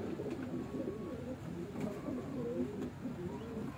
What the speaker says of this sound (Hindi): ये जी वो कबूतर है इमरान भाई